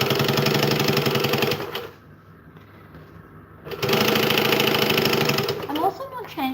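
A home sewing machine stitching fabric at a steady, fast mechanical rhythm, close and loud, pausing for about two seconds before running again, with a brief voice near the end.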